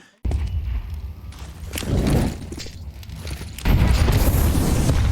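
A grenade goes off in a Counter-Strike 2 professional match at IEM Katowice 2025, with heavy low booms and rumbling blasts rolling in twice amid game noise and footsteps.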